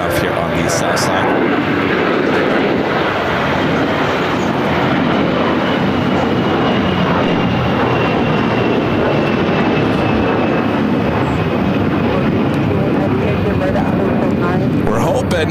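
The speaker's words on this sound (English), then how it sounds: "Air Canada A321 taking off here on the south side." Air Canada Airbus A321 taking off on the south side at LAX, a steady broadband jet roar that holds loud and continuous throughout, with a faint whine above it.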